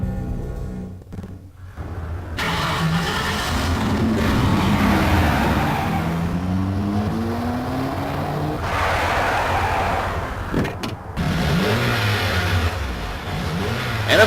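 A getaway car in the Max Payne video game roars off with engine revving and rising gear-change sweeps, loud and close, with skidding tire noise throughout.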